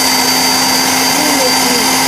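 An electric meat mixer stirs chopped pork with its skin cut off, for Chinese New Year lion head meatballs. Its motor gives a steady, close, continuous whir with a faint hum throughout, and a voice speaks over it.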